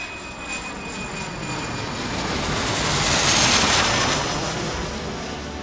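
Loud, continuous jet roar builds and swells as a JAT Airlines plane takes off from Copenhagen Airport and passes, with a broad rushing hiss that peaks midway then eases.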